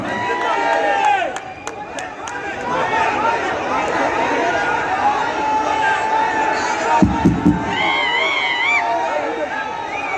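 A large crowd at an Amit Shah political rally in Kagaznagar, Telangana, raises a steady, loud roar of chatter and cheering, with scattered claps and whistles running throughout.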